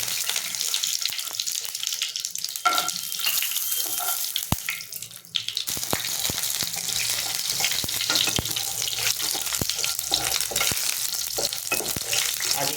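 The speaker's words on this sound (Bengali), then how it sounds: "আর আমি বড়িটা ভেজে" Bori lentil dumplings frying in hot oil, a continuous loud crackling sizzle with scattered sharp pops and a brief dip in intensity midway.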